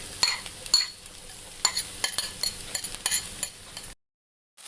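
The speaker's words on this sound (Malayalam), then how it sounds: "നന്നായിട്ടൊന്ന് മിക്സ് ചെയ്യണം" Egg yolk being stirred into onion masala in a pan, quick repeated scrapes and clinks of a spoon against metal over a low sizzle, close and busy, cutting off abruptly near the end.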